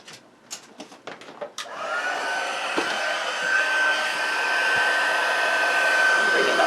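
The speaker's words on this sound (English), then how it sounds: "let's bring in the heat tool" Heat embossing tool blowing hot air to melt embossing powder on a stamped card, switching on after a few soft taps and then holding a steady, close whooshing hum.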